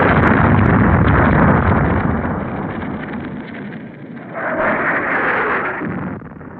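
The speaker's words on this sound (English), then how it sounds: "The city still under shell fire." Artillery shell fire pounds the besieged city of Leningrad, a loud rumbling barrage of booms with roaring low noise that eases midway and then swells again.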